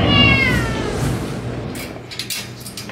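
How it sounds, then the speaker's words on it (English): A short-haired black cat gives a loud, drawn-out meow close by, followed by quieter scuffling sounds as it fades. "found a cat wandering nearby that had belonged to a family living on the tower's 9th floor"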